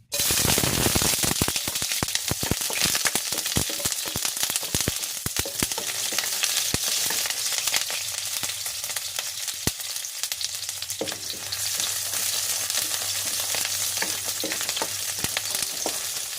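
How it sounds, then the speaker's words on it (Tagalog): Onions sautéing in cooking oil give a loud, continuous crackling sizzle close up, with dense popping spatters throughout and a low background hum toward the end. "Then, ilagay ko na yung aking sibuyas."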